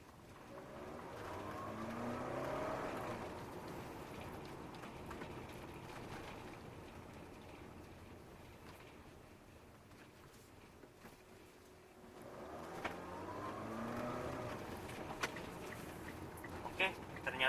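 A 2019 Nissan Livina VL engine pulls from low revs with the air conditioning off, its drone rising and fading, then climbing again, heard faintly from inside the cabin.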